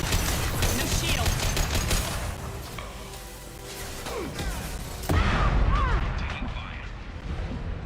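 Gunfire in a Mass Effect firefight, with dense overlapping bursts, bangs and impacts over a steady roar, plus a louder crash partway through, while players talk throughout.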